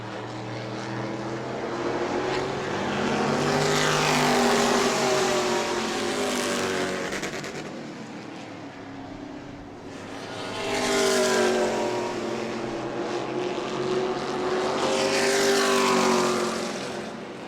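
E-Mod race cars roar around New Smyrna Speedway, with one car wound up hard as engines swell and fade in repeated passes, loud and close, no talk over them.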